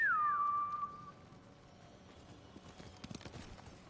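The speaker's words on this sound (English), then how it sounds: "Me and my horse." Horse hooves clip-clopping in Ghost of Tsushima, faint irregular footfalls that follow a clear, loud whistle gliding downward at the start.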